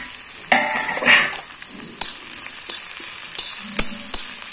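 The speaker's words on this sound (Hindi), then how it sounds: "और अब डाल देंगे ये अदरक। और ये डाल दिया प्याज।" Ginger and onion sizzle in a hot pan, with scraping stirs and clinks of a spoon cutting through the steady frying, and nobody talking.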